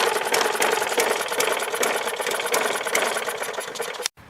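Small lawn-equipment engine with a partially clogged carburetor running roughly: a loud, close, rapid rattling putter that sputters steadily, then cuts out abruptly just after four seconds.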